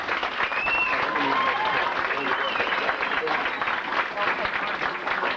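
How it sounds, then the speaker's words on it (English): An audience bursts into warm, sustained applause, a dense steady wash of clapping from a large crowd with a few cheers and voices mixed in throughout. "bring up Kevin Ray, give him a big, warm, strong applause"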